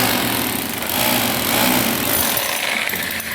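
Rotary hammer drill boring into a wall on a building site in Ghana, a loud, harsh continuous hammering roar held close for the whole stretch with no speech.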